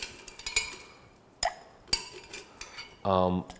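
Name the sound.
stirring a Manhattan cocktail in mixing glass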